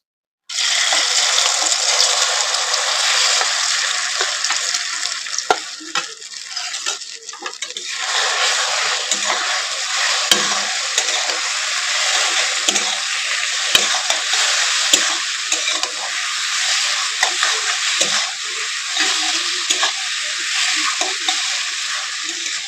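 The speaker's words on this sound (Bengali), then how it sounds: "এবারে ডিম দিয়ে মাখিয়ে রাখা সয়াবিন গুলো আমি এর মধ্যে তেলের মধ্যে দিয়ে ভেজে নেবো।" Soybean chunks coated in egg fry in hot oil, producing a loud, steady, close-up sizzle that crackles continuously throughout, with no talking.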